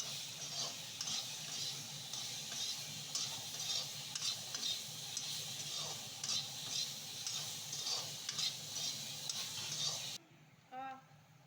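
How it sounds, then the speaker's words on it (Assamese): Boiled papaya and potato pieces fry in hot oil with salt, giving a steady sizzle broken by repeated scraping and clinking of a stirring spoon against the pan. The sizzle stops abruptly near the end. "অমিতাখিনি অকণমান কাঢ়া হোৱালৈকে ভাজিব"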